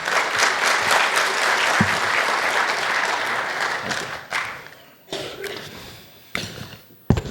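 Audience applause welcoming the chairman at an ICAI Dubai chapter event, a loud dense burst of many hands clapping that fades after about four seconds into scattered claps and knocks.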